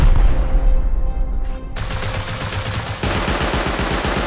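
Heavy machine-gun bursts in the survival game Rust during an online raid, loud and close, with rapid continuous firing that shifts into a denser, harsher barrage partway through.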